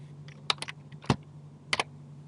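A few quick keystrokes on a computer keyboard, small clusters of close, crisp clicks separated by short pauses, in a quiet room with no talking.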